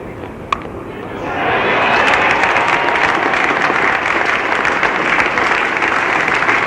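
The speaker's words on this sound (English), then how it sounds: "Applause for Gary Sobers' half-century." Cricket crowd at Lord's during the 1973 West Indies vs England Test swells into sustained applause, building over the first second or two and then holding steady as a broad, distant wash.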